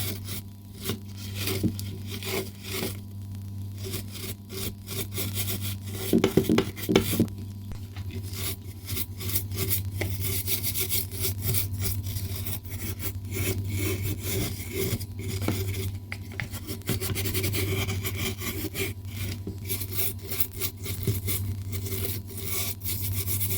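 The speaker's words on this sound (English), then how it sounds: "here I have some wire wool. Let's see if we can get some of this rust off." Wire wool rubbing rust off a Brooks leather bike saddle makes a steady abrasive scrubbing, a continuous close rasp with a low hum underneath and a brief harder burst of strokes around the middle.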